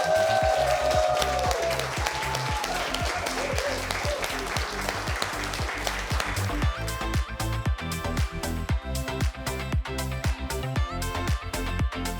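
An audience on a cooking competition show breaks into sustained applause for special guests, a dense, steady wash of clapping that fills the space, with faint music in the background.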